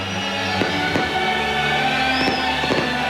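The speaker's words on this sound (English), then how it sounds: "The fireworks have been blasting over 5 minutes now over the Church of the Nativity in Bethlehem's Manger Square." Fireworks burst over the Church of the Nativity in Manger Square, Bethlehem, during millennium celebrations, with distant booms and sharp cracks scattered over a continuous roar of crowd and music.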